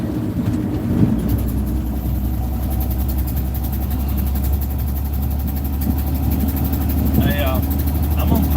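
An old truck engine idling close by, a loud, steady low rumble that runs unbroken throughout, with someone talking over it.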